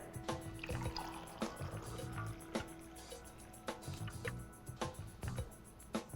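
Brewed Aeropress coffee being poured out, a quiet, soft trickle broken by scattered sharp clicks and taps over a faint steady hum.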